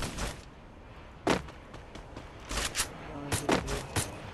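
Gunfire in the battle-royale game Free Fire, in bursts of several sharp shots, some in quick clusters, fairly close and loud.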